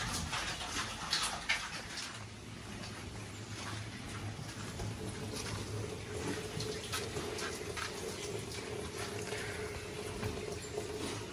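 Water runs from a tap or hose to fill a drinking trough for pigs on a farm, a steady low splashing and gurgling flow with faint background noises and occasional bumps.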